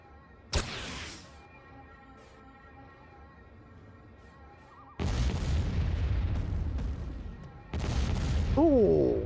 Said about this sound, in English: Drop the bombshells.